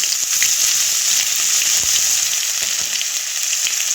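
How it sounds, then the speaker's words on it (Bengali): Ginger paste sizzling and frying in hot oil as it is stirred in a pan, with a steady loud hiss and occasional soft scraping from the stirring, no voices. "এবার দিয়ে দিচ্ছি আদা পেস্ট।"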